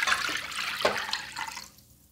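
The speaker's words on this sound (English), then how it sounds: "You first pour the water into" Water is poured into a bowl in a kitchen while preparing a lye solution, a short splashing gush that tapers off quickly to quiet.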